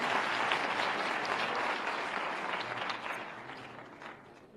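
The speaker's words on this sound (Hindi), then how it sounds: "पहले अपने खुद के लिए जोरदार ताली बजा करके" A youth audience in a hall in Bhopal claps loudly and continuously, a dense, even applause that tapers slightly toward the end, with no voices over it.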